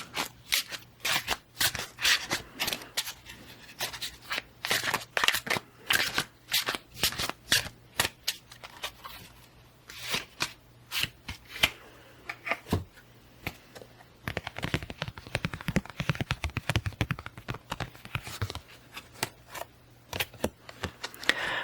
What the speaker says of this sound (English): So now we will pull a couple cards.